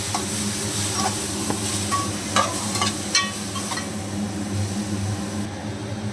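A cup of pumpkin pieces for gummadikaya halwa fries in a pan with a continuous close sizzle, while a spoon scrapes and clicks against the pan a few times partway through.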